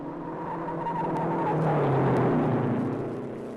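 A 1955 Indianapolis 500 race car laps the Speedway at full throttle, its engine a steady, loud roar that swells as it nears and fades slightly at the end, with no one speaking.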